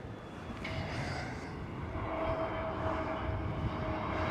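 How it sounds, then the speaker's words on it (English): A KLM Airbus A321neo jet at Amsterdam Schiphol Airport produces a steady, moderately loud engine roar that swells slightly and holds throughout, with a faint tonal whine running beneath it. "KLM Airbus"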